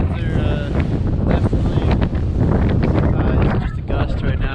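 A strong wind gust hits an exposed mountain slope, roaring loudly and steadily into the microphone with buffeting rumble throughout and no voices.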